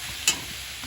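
Jackfruit seeds fry in a pan with a soft, continuous sizzle and one brief scrape of stirring, close and alone.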